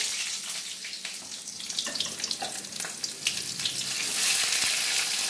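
Onions go into a hot pan with oil and a dried red chilli for chicken rezala, sizzling loudly and steadily with crackling spatter that swells toward the end.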